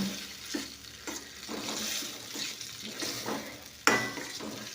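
Raw mango dal stirred in a pan, a quiet bubbling sizzle with rhythmic scraping strokes and one sharper clank of the spoon near the end, close and without talk.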